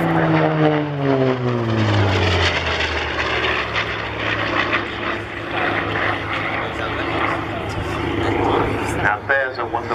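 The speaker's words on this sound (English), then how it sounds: "18 cylinders of the Bristol Centaurus 18. 2 rows of 9. Radial engine" Bristol Centaurus 18-cylinder, two-row radial aircraft engine in flight at the Cosford Airshow 2013, a loud propeller drone that sweeps down in pitch as the plane passes, then a steady roar with a commentator talking over it.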